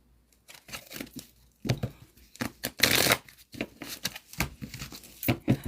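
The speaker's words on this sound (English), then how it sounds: "I'm putting in a fresh shuffle into this" Tarot cards from The Moons Tarot deck are shuffled by hand, a series of close, crisp riffling and slapping bursts separated by short pauses.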